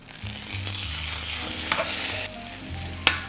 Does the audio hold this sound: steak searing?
yes